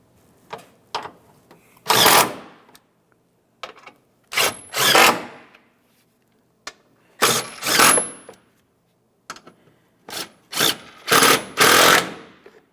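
Fasteners being snugged down on a 2015-2020 Ford F-150 windshield washer reservoir: several short bursts of a power ratchet or driver whirring near and loud, separated by quiet gaps and small clicks, with no talking.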